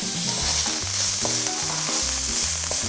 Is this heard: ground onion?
yes